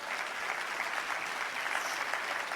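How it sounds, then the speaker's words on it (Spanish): A church congregation applauds during a Sunday celebration service, a fairly distant, even wash of clapping that holds steady throughout. "otro aplauso"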